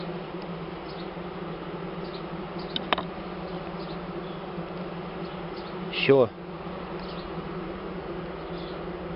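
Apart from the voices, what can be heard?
bee swarm buzzing in a ceiling nest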